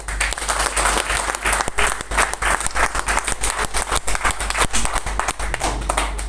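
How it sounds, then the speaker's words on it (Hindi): An audience at a Crown LDP seminar in Digha claps steadily in dense, continuous applause lasting several seconds, with no speech over it. "अच्छा लगा तो ताली बजा दे।"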